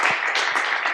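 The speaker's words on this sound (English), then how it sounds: "keep clapping them up" Church congregation clapping steadily, a close, dense wash of many hands applauding without pause, loud and continuous with no speech over it.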